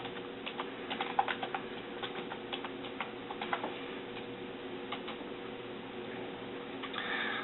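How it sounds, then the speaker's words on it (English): Rapid, uneven clicks of keys on a computer keyboard, fairly close and quiet, tapping in short bursts with brief pauses as a web address is typed. "So let me type that in."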